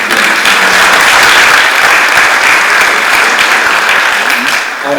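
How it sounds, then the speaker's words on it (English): A loud, sustained burst of crowd applause for civil servants at a talk on the JS-SEZ economic zone, with a dense, even roar of clapping running throughout. "Please give a round of applause."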